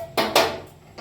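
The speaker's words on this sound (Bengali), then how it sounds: "কড়াইটা বসিয়ে দিচ্ছি" A kadai wok is set onto a gas stove with two quick metallic clanks in close succession, followed by a faint third knock, nearby and fairly quiet.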